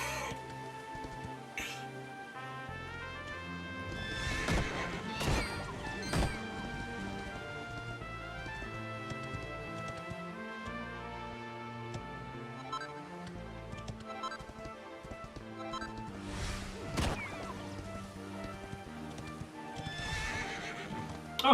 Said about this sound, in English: being able to gather while you're mounted is one of those awesome ones that I enjoy